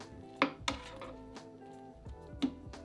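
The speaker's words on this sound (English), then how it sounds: "Stir it all together." A spoon knocks and scrapes against a slow cooker while stirring mushrooms, tomato puree and white wine vinegar, giving a few sharp clinks spaced apart, fairly close and quiet with no talking.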